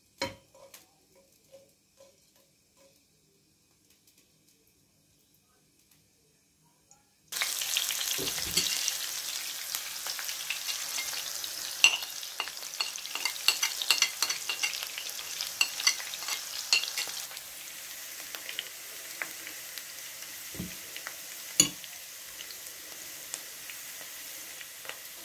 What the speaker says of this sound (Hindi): हल्की आंच के ऊपर प्याज फ्राई करते हैं ताकि ये जले ना और क्रिस्पी सी हो जाए।